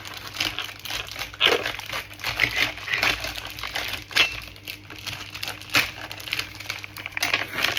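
Plastic packaging around a saucisson crinkles and crackles steadily as it is handled and torn open, a close, continuous rustle with sharper crunchy peaks throughout.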